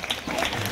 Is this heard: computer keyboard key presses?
no